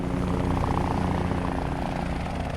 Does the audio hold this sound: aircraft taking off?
yes